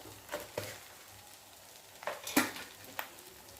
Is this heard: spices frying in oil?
yes